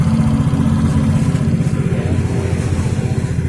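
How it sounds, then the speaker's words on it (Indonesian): An injected Yamaha XRIDE motorcycle idles close by with a pulsing, uneven engine note that rises and dips slightly, and no talk is heard. "ini langsamnya tidak stabil."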